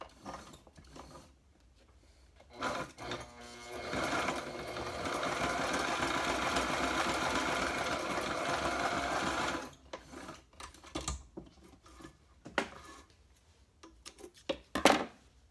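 A portable walking foot sewing machine runs in one steady, dense mechanical stitching burst of about six seconds, with scattered clicks and handling knocks before and after it.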